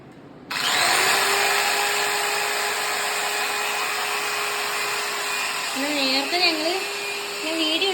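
A power drill starts abruptly and whines at a steady pitch, drilling into a wall at close range, while someone briefly speaks near the end.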